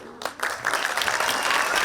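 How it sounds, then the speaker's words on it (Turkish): An audience claps for a street sweepers' awareness theatre performance, a few early claps swelling quickly into loud, steady applause from the crowd. "güçlü alkışlarını Sinan Keskin için böyle alabilir miyiz"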